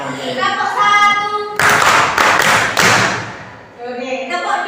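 A classroom of students claps the 'tepuk 1' pattern: a brisk cluster of loud, close group claps in a short rhythmic burst, with a teacher talking before and after.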